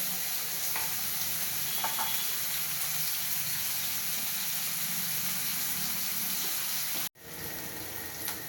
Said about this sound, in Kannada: ಈರುಳ್ಳಿ ಒಂದು ಸ್ವಲ್ಪ ಬ್ರೌನ್ ಕಲರ್ ಬರೋವರೆಗೂ ಬೇಯಿಸ್ತಾರೆ